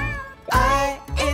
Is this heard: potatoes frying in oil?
no